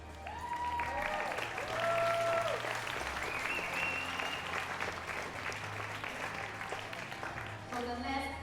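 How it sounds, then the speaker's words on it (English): Audience applause at a women's 10m air rifle shooting competition in Chengdu, sustained clapping from a crowd in a large hall, with electronic tones and announcer talk layered over the start and end. "let's give them a big applause and wish them good luck"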